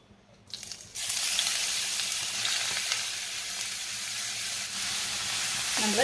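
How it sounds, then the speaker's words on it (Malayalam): Grated bottle gourd drops into hot ghee and fries with a steady, loud sizzle that holds throughout after a brief quieter start, with faint stirring scrapes and no talking. "ഇനി നമുക്ക് ഈ നെയ്യിലേക്ക് ഈ ഗ്രേറ്റ് ചെയ്ത് വെച്ച് ചൊരക്ക ഇടാം"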